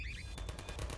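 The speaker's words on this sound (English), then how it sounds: "stop with the guns." Rapid burst of automatic gunfire in the multiplayer sandbox game Garry's Mod, a quick run of sharp repeated shots close and loud over a low rumbling background.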